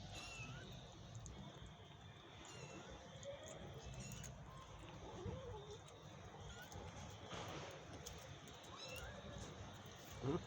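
Kittens meow faintly and intermittently while trying to climb back up, set against a steady low background rumble, with no voices present.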